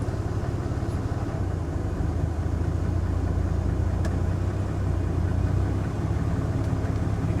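A Ford F150 pickup's engine runs in gear with a steady low rumble, a continuous close drone that holds an even level throughout with no talking over it.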